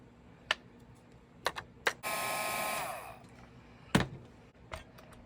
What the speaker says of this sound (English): Then I'm going to heat emboss it